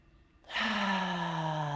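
During seated chair yoga, a single deep, breathy exhale sighs out close to the listener and fades slowly.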